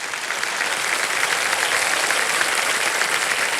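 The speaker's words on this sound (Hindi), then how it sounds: "तालियां बज जाएंगे" Studio audience at a televised quiz game show applauding, dense sustained clapping from many people, loud and steady throughout.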